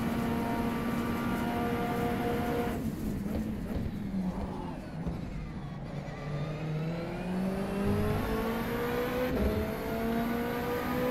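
A race car engine in the rFactor 2 racing game, at a Le Mans 24-hour endurance test session, drones loudly and steadily, its pitch sliding up and down as it revs, close and continuous.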